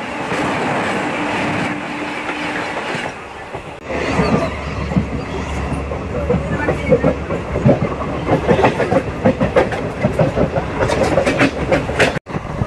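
The Shalimar–Chennai Central Coromandel Express rolls past close by, a loud rushing rumble with rapid rhythmic clickety-clack of wheels over rail joints that builds after a quieter start.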